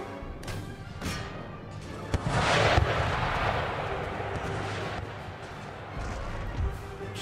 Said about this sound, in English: Gunners blast the square